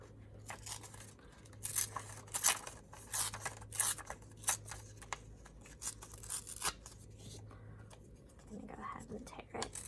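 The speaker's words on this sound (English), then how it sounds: "tear the edges away so it's got more of a rough look" Paper is torn by hand along its edges to make envelope tags, producing a string of short, close ripping and crinkling bursts at an uneven rhythm, with a soft voice murmuring underneath.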